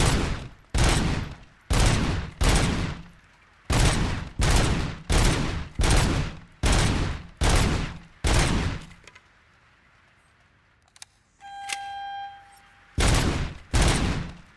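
Gunfire at a shooting range in the Robocop: Rogue City video game: a long run of loud, evenly spaced heavy shots, each with a short ringing tail, a brief pause broken by a metallic click and tone, then two more shots.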